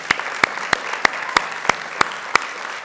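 An audience at a school district candidate forum claps for the candidates, a steady wash of hand claps with a few sharp, louder claps standing out at regular intervals, nearby and without talk.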